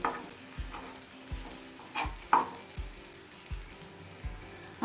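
Lote fish paturi cooks on low flame while a utensil scrapes and stirs at a steady rhythm, with a soft sizzle underneath as the moisture dries off.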